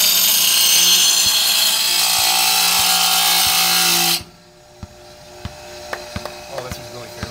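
A power tool grinds a lawn mower blade for about four seconds, a loud, steady abrasive whine that cuts off abruptly, leaving quiet scattered taps and clatter afterward.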